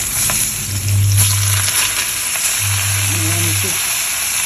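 Fish fries in a hot wok with a loud, steady sizzle close by, while a low droning hum rises and falls twice in the background.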